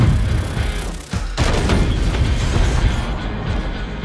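A bomb explosion with gunfire in an action film: a dense, loud roaring rumble with crackling bursts that dips for a moment and then surges again, sustained to the end.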